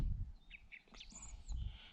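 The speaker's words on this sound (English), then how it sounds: "Skylark and a song thrush" Skylark and song thrush singing outdoors near Minninglow Hill, faint thin chirps and short whistled notes heard at a distance over low wind rumble.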